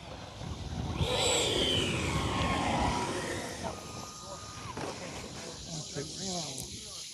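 Whooshing, hissing roar from a Freewing F-22 Raptor RC model jet in flight, building in the first seconds and then passing and fading, with people talking over it.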